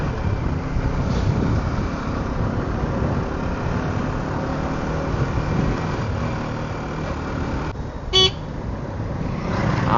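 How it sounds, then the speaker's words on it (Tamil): A single short horn toot from a Yamaha R15 motorcycle sounds briefly over steady traffic rumble and wind noise. "ஆரன் தாங்க R15."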